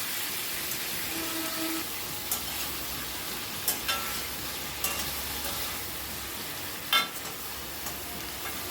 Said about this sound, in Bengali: অনবরত নাড়াচাড়া করে এটাকে আমি একটু কষিয়ে নিচ্ছি